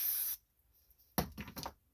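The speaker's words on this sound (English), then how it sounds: "We're going to spray that float off a little bit." An aerosol cleaner sprays the float of a Toro push mower carburetor, a close hiss that stops abruptly, followed after a pause by a few short, sharp bursts.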